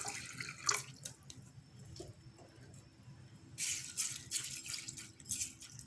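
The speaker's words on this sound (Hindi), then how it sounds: "पानी डाल रही हूँ मैं इसमें" Plain tap water pours into a bowl of soaking mash lentils, a steady close trickle and splash with bursts of stronger pouring and rattling drips, no voice.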